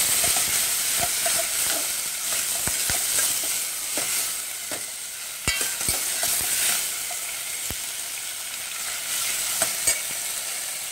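Bitter gourd pieces fry in a pan for kakarakaya pulusu, giving a steady broadband sizzle with scattered sharp clicks and pops throughout, close and fairly loud, with no talking.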